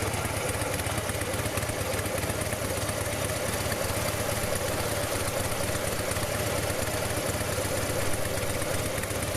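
A 2017 Harley-Davidson Fat Bob motorcycle idling, a steady low rumble with a continuous mechanical clatter, close and unbroken throughout.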